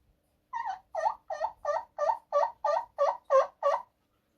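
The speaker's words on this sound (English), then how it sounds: "So he makes the gobble." Wild turkey gobbler gobbling at first light, a rapid run of about ten sharp, rattling gobble pulses over roughly three seconds, close and clear against a quiet background.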